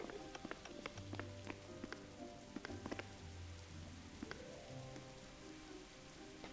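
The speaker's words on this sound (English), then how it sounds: "it's raining." Rain falls in a backyard, producing scattered close drips and taps over a soft wash, with low hums and faint background sounds underneath.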